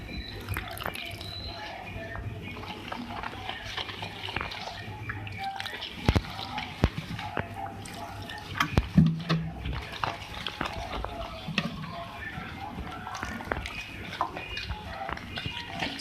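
Gram flour batter is stirred with water in a bowl for a dahi baray recipe, producing soft wet squishing and dripping sounds with occasional clicks of the spoon, fairly quiet and continuous.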